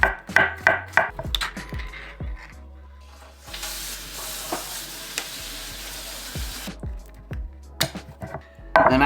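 Mushrooms are chopped with a knife in quick, close rhythmic board taps at the start and end, and a steady hissing wash fills the middle.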